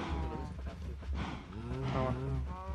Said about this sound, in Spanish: Vamos a dar de comer las vacas que están haciendo mucho ruido